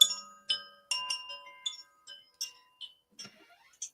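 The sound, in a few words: meditation chimes ringing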